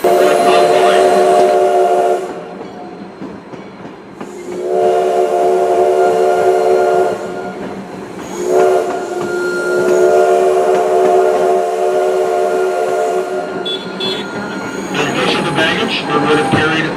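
A heritage train on the South Simcoe Railway sounds several long whistle blasts separated by short gaps, over the steady rolling rumble of the coaches, with a little squeal toward the end.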